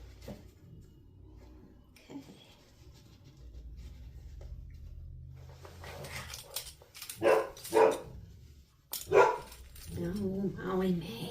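A small dog named Molly May barks in several sharp bursts at another little dog, fairly close, with quiet household sounds and some talking around the barks.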